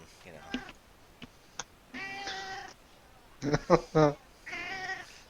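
A cat meows several times close by, short cries and a longer drawn-out caterwaul spaced across the stretch, with faint clicks in the quiet gaps and no talk over it.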